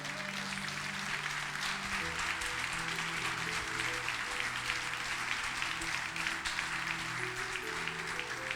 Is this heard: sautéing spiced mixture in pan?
no